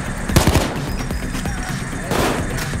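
Gunfire from a weapon in the heist shooter PayDay 2: a rapid, loud automatic burst near the start, followed by scattered quieter shots against steady game background noise.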